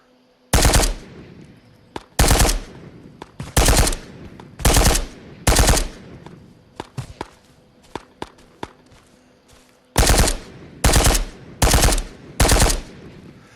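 Bursts of automatic gunfire in the VR shooter Ghosts of Tabor on PSVR2, loud and close, coming in short rapid volleys separated by brief gaps, with faint footstep-like knocks between them.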